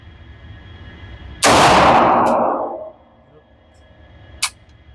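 An FM45 .45 ACP pistol-caliber carbine fired with iron sights at a target outdoors: one loud, close shot with a decaying echo, followed later by a short sharp click.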